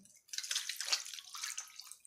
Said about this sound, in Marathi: साधारणतः मी इथे अर्धा लिटर पाणी टाकलेलं आहे.